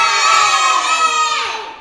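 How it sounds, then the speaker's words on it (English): A studio audience cheers and whoops together, a loud burst of mixed voices that holds steady, then tapers off at the end. "Audience, give us a cheer."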